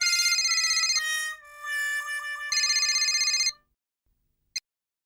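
An electronic ringtone plays a bright repeating melody, pauses, rings again, then cuts off, leaving silence broken by a single short click.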